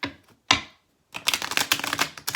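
Crisp riffling and slapping of tarot cards being shuffled and handled, a couple of short flicks followed by a dense run of rapid card snaps up close.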